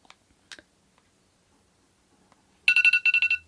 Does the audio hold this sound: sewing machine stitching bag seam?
no